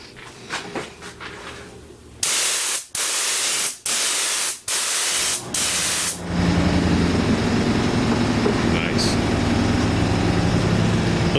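An old DeVilbiss HVLP spray gun, pumped to 60 psi, blasts plain air in loud broadband hisses: several sharp bursts with brief gaps between them, then a long, steady, unbroken rush of air.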